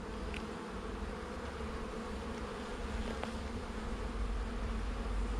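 Honeybees buzzing in a dense, steady drone during an open beehive inspection, a close continuous hum of many insects with no voices.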